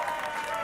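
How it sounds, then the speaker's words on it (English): Hands clap behind a camera during a casual podcast recording, a short, steady patter of claps lasting under a second, fairly quiet and close. "I was told to clap, so I am currently clapping behind the camera"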